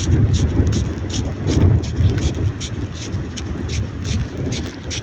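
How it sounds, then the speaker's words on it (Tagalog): Strong wind after a typhoon buffets the microphone in heavy gusts on a seashore, a loud rushing roar with repeated bursts, with voices faintly underneath. "malakas pa rin ang hangin"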